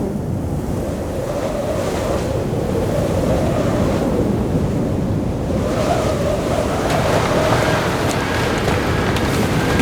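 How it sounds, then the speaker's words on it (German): Strong wind roars steadily outdoors near the sea, a dense, loud, continuous rush with crashing surf beneath it and no pauses. "Bei ein bisschen Wind ist es dann doch nicht geblieben."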